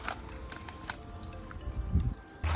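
Wastewater pours from a camper van's gray water tank down through a ground grate, a close, steady splashing trickle that swells briefly near the end, with no voices.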